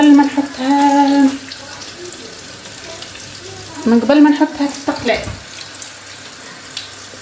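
Water is poured into a hot pan of oil and garlic, giving a steady hissing sizzle and splash under someone speaking.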